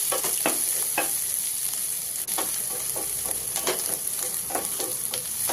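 Onion and carrot pieces fry in a pan while poha is being prepared, with a loud, constant sizzle and repeated scraping stirs of a spatula at an irregular pace.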